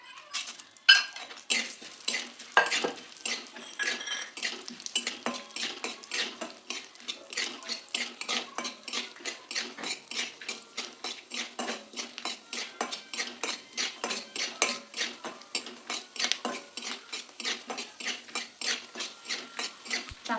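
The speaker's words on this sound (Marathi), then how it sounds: "आणि हे ड्रायफ्रूट्स आहेत ते मी तळून घेते" Dry fruits, pistachios and seeds stirred in ghee in a pan over low heat, with a rapid steady run of small metallic spoon scrapes and clinks and a faint crackle beneath, close and continuous without talk.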